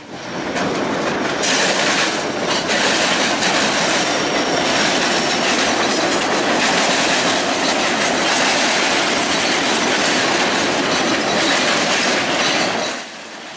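CN Q114, a long intermodal freight train carrying some mixed freight and empty coil cars, roars past close by with continuous loud rumble and rhythmic clickety-clack of wheels over rail joints, faint wheel squeal, easing off at the end.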